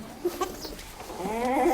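A goat bleats in a short series of wavering, nasal calls on a livestock farm, fairly close and moderately loud, the last call rising and stretching out.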